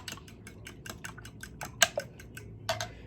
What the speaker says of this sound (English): Whisk together.